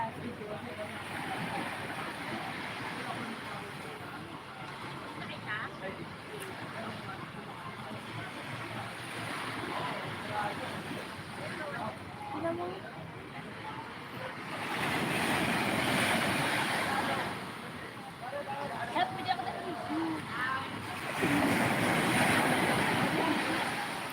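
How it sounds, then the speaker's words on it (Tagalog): Ocean waves wash in steadily, swelling louder toward the end, with wind rushing across the microphone. "Lalakad ang alon."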